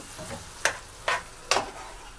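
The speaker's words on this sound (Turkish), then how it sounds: "Ben bu soğanla kıymalı kavuruyorum baharatını." Onion and minced meat fry in a pan under a low, steady sizzle, while three distinct scraping strokes of a utensil stir them at an even pace.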